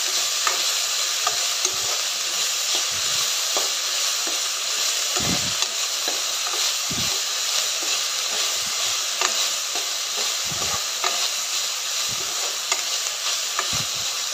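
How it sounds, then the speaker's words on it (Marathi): Roasting in a hot pan with a spoonful of salt, a loud, dense, unbroken sizzle and hiss with repeated scraping strokes of the spoon stirring through it, close up with no talking. "मीठ घालून चांगलं भाजून घ्यायचं आहे।"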